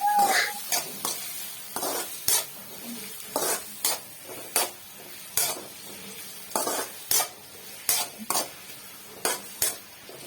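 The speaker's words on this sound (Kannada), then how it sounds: "ಉದ್ದಕ್ಕೆ ಹೆಚ್ಚಿರುವಂತೆ 2 ಈರುಳ್ಳಿ ಅದಕ್ಕೆ ಸೇರಿಸಿ ಚೆನ್ನಾಗಿ ಮಿಕ್ಸ್ ಮಾಡಬೇಕು." Sliced onions sizzle in a hot pan for a masala mint rice dish while a spoon stirs them in repeated scraping strokes, with clinks against the metal at a steady rhythm. The sound is close, and no one speaks.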